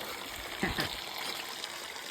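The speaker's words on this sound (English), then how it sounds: "Bit of draining going on." Water drains from the walled Cable Car Hot Spring pool in a continuous outdoor gush and trickle, with a couple of brief louder splashes near the start.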